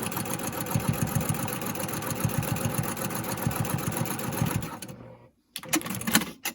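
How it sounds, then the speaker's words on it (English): A sewing machine stitches along the edge of a fabric mask with a steady, rapid mechanical whir and pulsing needle rhythm, close and loud, stopping abruptly near the end before brief handling noises follow. "I'm going to sew right up that edge and secure those tucks"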